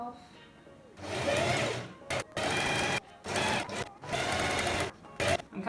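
Sewing machine stitches elastic onto fabric to gather it, running in loud bursts of rapid whirring with brief pauses between runs, close up.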